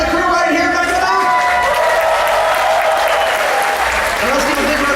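An audience at a Star Wars Weekends stage show gives loud, sustained applause for the backstage crew, with clapping and scattered cheers filling the space continuously.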